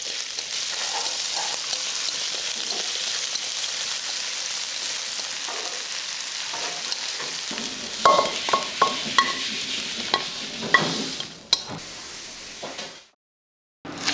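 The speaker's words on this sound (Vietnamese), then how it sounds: "Tôm mình cũng xào chín tương tự và mình để riêng luôn" Shrimp stir-frying in a hot pan, a steady close sizzle with stirring scrapes and clatters, ending in brief silence.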